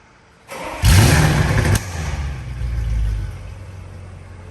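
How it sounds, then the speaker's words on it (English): An Audi RS6 fires up with a sudden loud bark and a brief rev, then settles into a steady, rumbling idle that swells slightly again. It is close and loud, with no talking. "Start the RS6."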